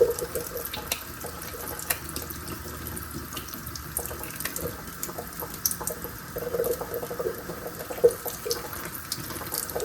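A kitchen tap runs steadily into a sink while tomato seeds are rinsed by hand, the stream even and continuous with small splashes and clinks throughout.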